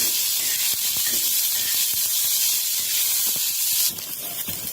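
Onion fries in hot oil in a pan until golden brown, a loud, close, steady sizzling hiss with faint crackles throughout that drops off slightly near the end.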